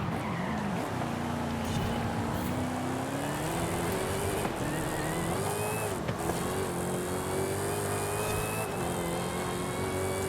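A Dodge Challenger Hellcat Redeye in Forza Horizon 5, rear-wheel drive, revs hard with a rising, wavering engine pitch, tires squealing and skidding as it twists about, steady and moderately loud throughout.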